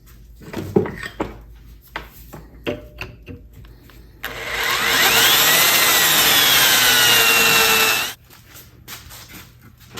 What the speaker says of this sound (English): Got my 2 guide holes that I will now drill out and then rivet them